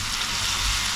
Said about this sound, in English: so I leave it here to boil